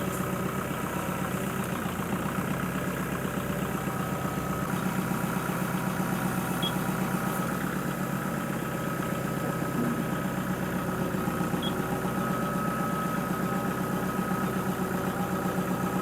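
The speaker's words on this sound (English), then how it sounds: "I'm going to get the tractor and move it to its temporary resting place" A tractor engine idles steadily with a continuous low, throbbing rumble, unchanging throughout.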